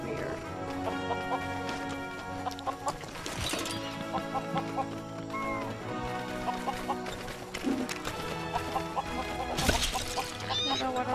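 Chickens cluck in the Lego Worlds video game, their short calls rising over a constant layer of bright, tonal game music throughout.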